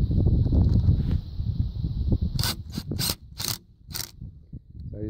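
Tapcon screw, 1¼ inch, driven into a drilled hole in an 8x16 concrete block during a solar panel install, heard as a low grinding mechanical rumble followed by several short, sharp, loud bursts from the driver close by, with no talk.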